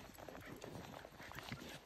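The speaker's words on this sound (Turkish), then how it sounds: "Atlar, atlar." Horses' hooves clip-clopping on the ground outdoors, faint and continuous with an uneven rhythm over a low background hiss.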